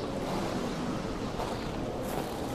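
Rushing water of a river in the forest video game Kona, a dense, steady wash of noise with no breaks, heard close and fairly loud with a slight brightening near the end.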